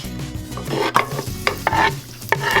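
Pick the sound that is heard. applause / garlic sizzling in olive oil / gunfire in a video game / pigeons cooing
garlic sizzling in olive oil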